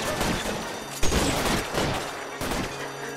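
A Tommy gun fires in L.A. Noire in dense, close automatic bursts, with a brief pause around the middle and a short gap near the end, loud and rapid throughout.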